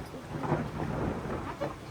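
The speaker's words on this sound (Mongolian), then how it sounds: "Бороо." Rain falls in a steady hiss over a low rolling rumble of thunder, continuous and fairly faint throughout.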